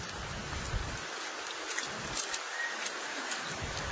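Steady rain hisses continuously, a dense wash of drops falling nearby with no voices.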